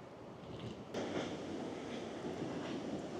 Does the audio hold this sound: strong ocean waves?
yes